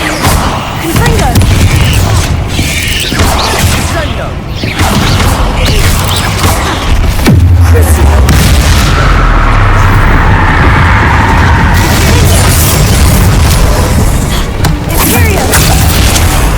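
Confringo fire spells burst in Hogwarts Legacy: repeated heavy, booming explosions with crackling debris in a dense, loud barrage, while a voice calls out over the blasts.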